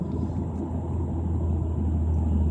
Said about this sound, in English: man, I love this exhaust